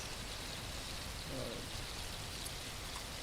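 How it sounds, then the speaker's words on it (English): Steady rain in the survival video game The Last Plague: Blight, a faint, even hiss of falling drops that holds throughout with no voices over it. "I hope we can ignite this in the rain."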